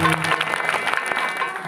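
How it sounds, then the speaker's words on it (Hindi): Audience applause at a Ramlila stage performance, greeting Hanuman's first entrance: a short, brisk patter of many hands clapping, close and fairly loud. "सब लोग जोरदार ताली बजाइए हनुमान जी के लिए"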